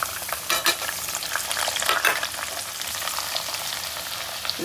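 Onions frying in hot oil and ghee with cumin seeds for sambar, a steady crackling sizzle throughout, close up, with a few louder pops and spatters and no talking.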